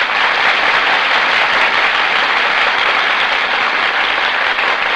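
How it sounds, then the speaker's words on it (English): A radio studio audience greets Annabella and Tyrone Power with loud, sustained applause, a thick unbroken wash of many hands clapping at an even level throughout, with no talk. "That applause, ladies and gentlemen,"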